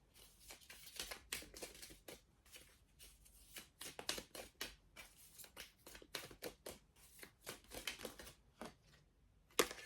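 Tarot cards being shuffled and drawn in a long run of quick, crisp riffles and flicks that come in uneven bursts, close and fairly quiet, with no talking.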